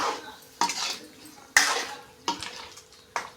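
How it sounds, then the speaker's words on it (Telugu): A spoon scrapes and clanks against a metal pot in four or five distinct strokes, stirring thick stuffed eggplant curry up close, with no talking. "ఇప్పుడు ఇదంతా బాగా కలుపుకోవాలి"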